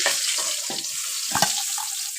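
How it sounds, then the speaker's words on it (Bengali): Steady hot-oil sizzling as a fish head fries, with a few brief stirring scrapes cutting through the continuous crackle. "তেল ভালোভাবে গরম হয়েছে মাছের মাথা দিয়ে দিলাম"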